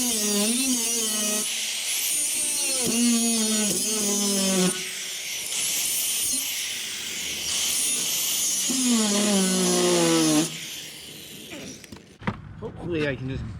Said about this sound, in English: try and get an angle grinder in there and, you know, beat this thing into submission